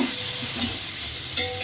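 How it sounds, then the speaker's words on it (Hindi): Ginger garlic paste fries with onions in a pot for chicken biryani, a close, loud, continuous sizzle with scraping stirs, no talk. "इसको मैंने 1 मिनट भूनना है"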